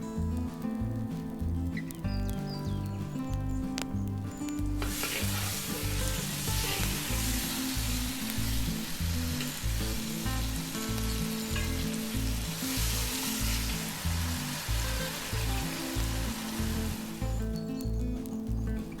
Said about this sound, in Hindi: जिंजर गार्लिक पेस्ट भुन गया है